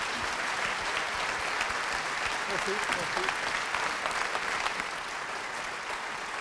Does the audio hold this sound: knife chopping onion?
no